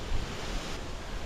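A waterfall on the Isle of Mull in Scotland roars as a steady, dense rush of falling water, heard close and unbroken for a brief moment with no voices.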